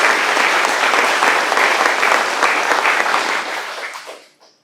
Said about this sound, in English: just another round of applause for the city